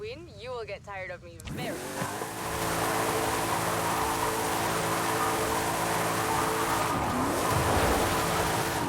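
A Corvette drifting in a rally racing video game, its engine droning steadily with a sustained tire squeal after a brief opening of talk, loud and continuous to the end.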